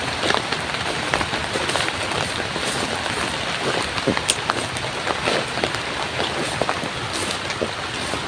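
Heavy rain pours down in a dense, continuous hiss of drops hitting surfaces. It is loud and steady with no break, and scattered sharper splashes stand out.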